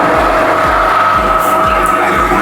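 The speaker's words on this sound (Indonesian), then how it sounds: "Kita nyalakan mesin." A metal-turning lathe in a vocational school workshop starts and runs with a steady mechanical whine, while rhythmic low thumps repeat roughly every half second throughout.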